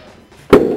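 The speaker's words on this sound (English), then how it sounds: "It's supposed to go boom. It's supposed to blow up." A small homemade explosion goes off in a single sharp boom, loud and close, after a brief quiet lead-in, then a lingering rumbling tail.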